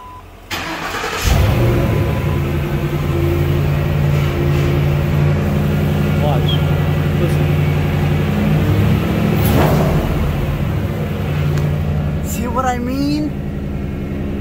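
A Lincoln Town Car engine fitted with a throttle body spacer cranks and catches after a second, then runs loud and close, holding a steady idle with rev swells as a voice talks over it.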